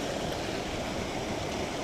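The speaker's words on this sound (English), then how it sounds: "this is usually a trickle of water at best, but it looks like right now it is, like I said, it's like 4 times the size that it normally is" A small creek on the Toogood Pond trail in April, swollen to about four times its usual trickle after heavy rain, gives off a steady, close, full rushing wash of water with no pauses.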